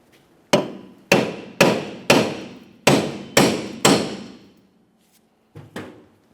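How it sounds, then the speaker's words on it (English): Hard metallic hammer strikes ring out on the rear brake drum of a 2006-2011 Honda Civic, seven evenly spaced blows with a ringing decay, then two quicker softer taps, no talking. "we want to tap right along this area with a hammer"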